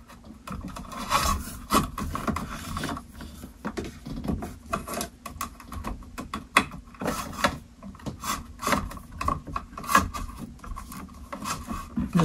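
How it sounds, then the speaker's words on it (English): Electrical wires are pulled tight through a lighting box in a wall ahead of drywall, giving close, irregular scraping and rustling pulls in uneven bursts, with no voices. "Just pulling the wires through tightly to make sure they're not going to impede the drywall."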